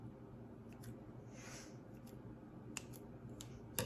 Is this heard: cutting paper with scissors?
yes